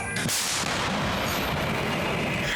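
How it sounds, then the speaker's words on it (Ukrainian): A heavy artillery gun firing near Pokrovsk, Ukraine, booms loudly and close, its broad rumble and roar filling the whole stretch without pause. "Постріл!"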